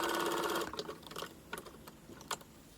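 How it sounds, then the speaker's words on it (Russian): A sewing machine runs a fast, steady burst of stitching along fabric about a centimetre from the edge, close and loud, then stops, leaving a few soft handling clicks and taps. "И теперь отстрочу где-то сантиметр от края. Вот таким образом сделаю строчку."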